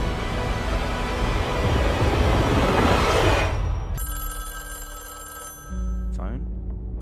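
A telephone rings in the Fortnite video game, two bursts of a steady electronic bell tone following loud, busy in-game noise, with a voice talking nearby.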